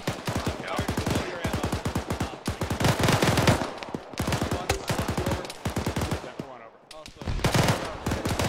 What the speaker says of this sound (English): I'm putting my last frag over there.